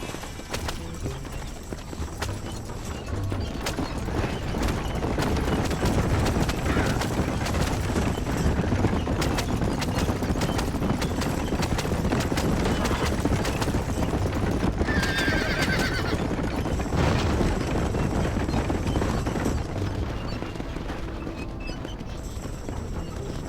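A horse in the video game Red Dead Redemption, ridden through Mexico, clip-clops steadily on hooves for a long stretch, with whinnies and snorts over the hoofbeats and faint gunfire in the distance.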